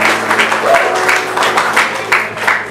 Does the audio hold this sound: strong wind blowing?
no